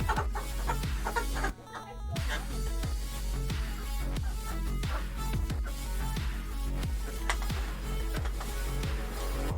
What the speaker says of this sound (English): This is my chicken.